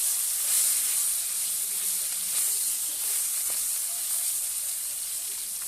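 Large fish bones fry in hot oil in a kadai, giving a steady, bright, close-up sizzle that holds at an even level throughout.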